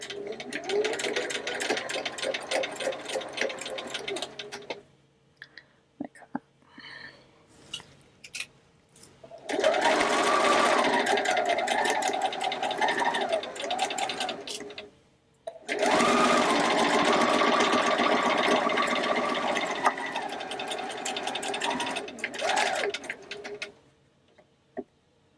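Sewing machine running over an earlier seam on a fitted face mask, loud close bursts of rapid stitching separated by short pauses and a few small clicks, with no voices.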